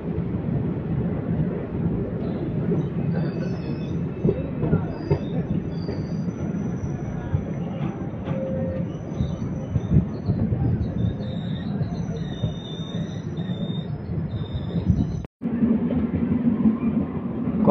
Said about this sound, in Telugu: కోరమండల్ ఎక్స్ప్రెస్ అయితే వెళ్ళిపోతుంది.